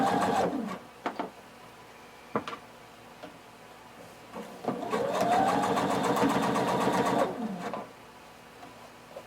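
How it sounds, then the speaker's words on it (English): Sewing machine stitching along the edge of a facing on shorts or pants, first in a few short bursts, then running steadily and loud for about three seconds before stopping. "we're going to sew right along the edge of our facing"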